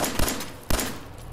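Gunshots from a gun in the Fallout 4 video game, two loud, punchy blasts about half a second apart, each with a brief rumbling tail, no voices.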